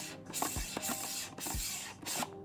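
An easy35 film-scanning tube being screwed by hand onto a camera, giving a few soft rhythmic scraping turns of the thread, each followed by a brief pause, close up and moderately quiet with no voices.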